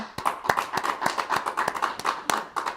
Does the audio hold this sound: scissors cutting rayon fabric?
no